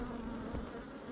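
Honey bees buzz in a steady, dense drone during a beehive inspection, a faint continuous hum with no talking.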